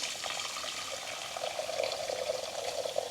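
Hot water poured into a pot for blanching vegetables in a home kitchen, a steady splashing pour that runs alone for about three seconds.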